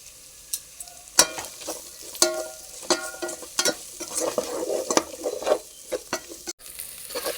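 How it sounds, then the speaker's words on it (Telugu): Onions and green chillies fry in a pan for a vegetable biryani. A crackling sizzle is broken by repeated sharp stirring scrapes and clatters at an uneven rhythm, close up and without speech. "ఉల్లిపాయలు, పచ్చిమిరపకాయలు వేసేసుకుందామండి. ఇవి కూడా బాగా ఫ్రై అవ్వాలి."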